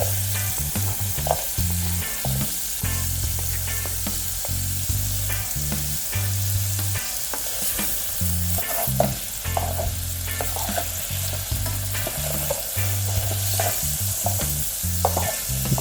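Sliced garlic and onion sizzle steadily in hot oil in a pan, with repeated scraping stir strokes throughout, close and fairly loud with no talking.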